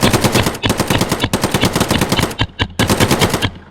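Paintball markers fire in dense, rapid bursts during a paintball match, a loud, nearly continuous rattle of shots with only brief pauses between volleys.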